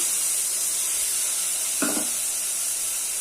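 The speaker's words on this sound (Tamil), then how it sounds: "இது நல்லா வதக்கலாம் தக்காளி நல்லா மேசாகிற அளவுக்கு வதங்கட்டும்" Tomatoes and onions sautéing in a pan, a constant close hiss of steam and sizzle with one short clatter in the middle, no talking.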